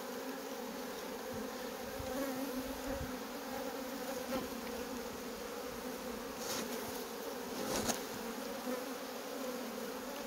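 Honeybees in a hive box buzz in a steady, dense drone throughout, with occasional louder swells as the colony is stirred up while a beekeeper inspects it; no voices.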